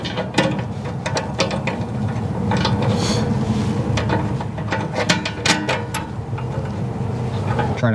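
A 3/4 end wrench loosens the bolt holding the blade pin clip on a Batwing cutter, producing close, irregular metallic clicks and knocks against steady background noise.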